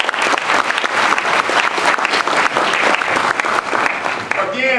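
Sustained audience applause for members of an academic panel at a university event, dense and loud clapping filling the room for several seconds before tapering near the end.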